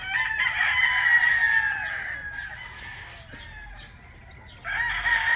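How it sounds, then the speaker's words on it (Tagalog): A rooster on a farm raising broodcocks and chicks crows loudly and close, with chickens clucking around it. A second crow starts near the end. "Parang sumalbahe itong manok na to."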